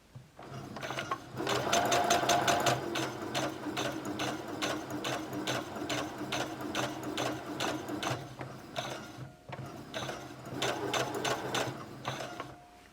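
A sewing machine runs steadily, stitching a straight seam along the edge of a felt carrying case, with a rapid mechanical needle rhythm that pauses briefly near the end before resuming, close and alone.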